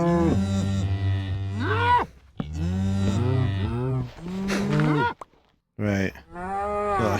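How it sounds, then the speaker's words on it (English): Cows in Minecraft, including baby cows on a cow farm, moo several times in a row, long drawn-out calls close by with short pauses between them and no talk. "That should push the baby cows."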